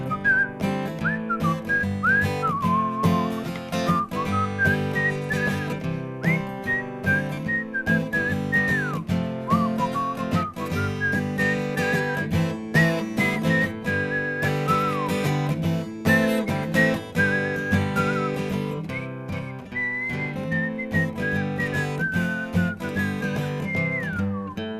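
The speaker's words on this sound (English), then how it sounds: "I love the whistling." During a live stage performance, a person whistles a continuous melody over steady instrumental accompaniment, loud and close throughout.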